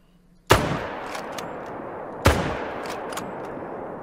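Two loud rifle shots ring out in a hunting video game while hunting alligators, each sharp crack followed by a long echoing decay, spaced about two seconds apart with no talking.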